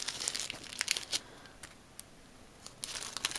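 A small paper envelope being opened up close, crisp crinkling and tearing bursts that come in clusters with a quiet gap in the middle.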